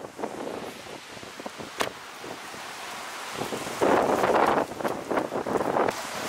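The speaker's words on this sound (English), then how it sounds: "It is like tornadoes outside, 40 degrees and so windy." Strong windstorm outside on a hot, very windy day, heavy buffeting gusts striking the microphone in loud rushing bursts and rumbles, with one especially strong blast midway and no talk.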